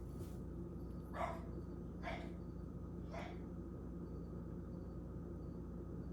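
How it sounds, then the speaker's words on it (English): A dog barks three times indoors at roughly one-second intervals, the barks fairly faint against a steady background hum, followed by several seconds of quiet. "My dog's going crazy."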